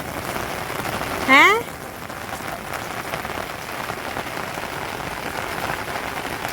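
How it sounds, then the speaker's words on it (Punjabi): Rain falls outdoors in a steady, even hiss, broken early by one brief rising whistle-like chirp, with a single short spoken word nearby. "ਮੰਮੀ ਆ ਕੇ ਮੀਂਹ ਦੇਖ ਲਓ ਬਾਹਰ"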